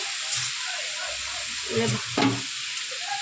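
Spices frying in oil for a papaya and rohu fish curry, a soft steady sizzle with a few brief stirring scrapes, one sharper burst near the end, and faint background talk.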